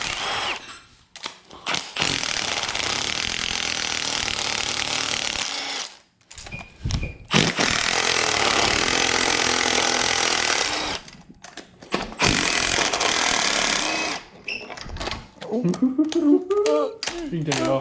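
A power tool removes bolts while an LQ9 engine is taken apart for a BMW E36 swap, with long loud buzzing runs broken by short pauses, clicks and a voice near the end.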